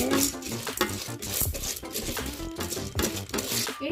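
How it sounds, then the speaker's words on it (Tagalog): Popcorn kernels being stirred in a rice cooker, with close, quick scraping and rattling of a utensil against the metal pot in an uneven, steady rhythm. "Nahaluin lang natin siya. Ayan, haluin muna natin."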